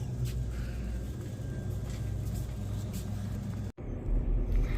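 Car interior driving noise, a steady low rumble and road hum heard from inside the cabin, cut by a brief click and silence before the engine drone returns louder.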